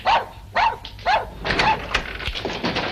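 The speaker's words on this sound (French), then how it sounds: "Le chien." A dog barks in a few sharp, close yaps spaced about half a second apart, followed by rougher, noisier barks and whimpering sounds, loud and prominent with no talk over it.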